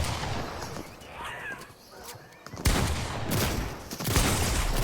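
Shotgun blasts in the video game Fortnite, Zero Build solos mode, land as loud booming bursts after a quieter stretch of game ambience.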